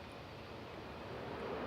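A Ryanair Boeing 737-800 arriving at Manchester Airport gives a steady, broadband jet roar that swells slightly toward the end, heard alone with no voices.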